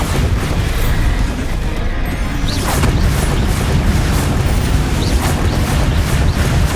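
Bombarda spell explosions and crashing impacts blast through a Hogwarts Legacy battle, a loud, dense, continuous wash of booming combat noise with scattered sharp hits.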